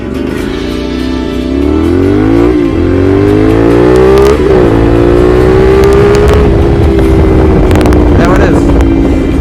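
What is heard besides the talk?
CFMOTO 450SR 2023 motorcycle accelerating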